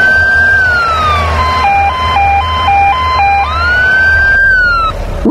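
An ambulance siren from a children's video game wails loudly and steadily, shifting into a rapid two-tone hi-lo pattern before returning to a rising and falling wail, with a low background music bed.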